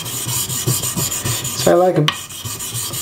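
A carbon steel blade is rubbed on King whetstones, 1000 and 8000 grit, producing repeated short rasping strokes in a steady rhythm, close and clear, while someone speaks briefly partway through.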